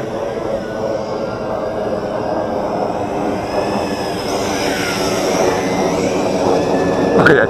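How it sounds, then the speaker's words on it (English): A Tarantula X6 quadcopter drone flies outdoors with a continuous loud whirring buzz of its rotors, pitch sliding up and down as it maneuvers and climbs, getting slightly louder near the end. "So this is a highly maneuverable quadcopter."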